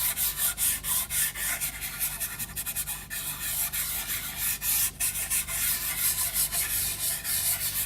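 White pastel is rubbed over a paper drawing in continuous, close, rhythmic scratchy strokes that pulse steadily back and forth without pause.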